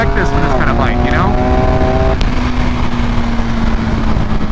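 A 2021 BMW R 1250 GS motorcycle with a BT Moto ECU flash, its boxer engine and exhaust droning steadily and loud throughout, with a rising whine early on, then settling into an even hum while a voice talks over it.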